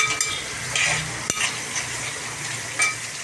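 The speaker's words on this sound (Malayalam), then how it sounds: "അപ്പം നമ്മുടെ സവാള നല്ലോണം വാടിയിട്ടുണ്ട്." Sliced onions with a pinch of salt, frying in a pan for a clam and drumstick-leaf stir-fry, sizzle steadily close up while a utensil stirs and scrapes, with one sharp clink of metal midway.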